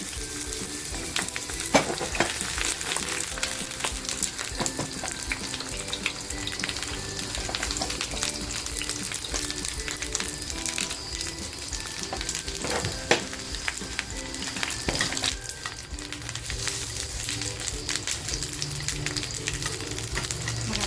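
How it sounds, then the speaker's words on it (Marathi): Eggplants frying lightly in hot oil in a pan, making a loud continuous sizzle and crackle with occasional stirring knocks, steady throughout with no voices. "ही वांगी आहेत ना आपल्याला हलकीशी फ्राय करून घ्यायची"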